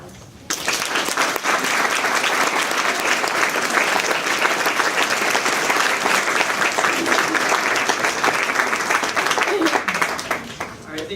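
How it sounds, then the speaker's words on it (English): An audience at a school award breakfast gives students sustained applause, a dense, loud, even roar of many hands clapping that lasts about ten seconds before easing off. "These students deserve a round of applause"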